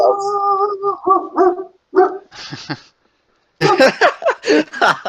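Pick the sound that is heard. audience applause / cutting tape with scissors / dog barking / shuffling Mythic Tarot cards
dog barking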